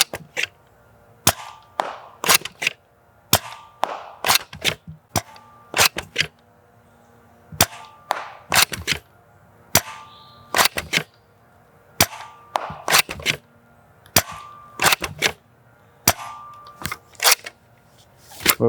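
Nerf blaster fired at a mobile shooting range, a string of sharp snapping shots in uneven bursts, loud and close with short gaps between volleys and no talking.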